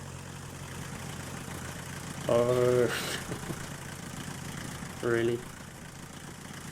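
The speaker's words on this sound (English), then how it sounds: "I'm going full revs, but I'm not going fucking anywhere." A car engine in the game The Long Drive hums and idles, swelling under full revs while the car stays stationary; brief spoken remarks cut in over the steady engine drone.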